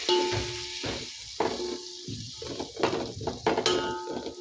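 Dry spices go into a hot pan for veg biryani, with soft sizzling and frying under repeated clinks and scrapes of a utensil against cookware, close up and without talk.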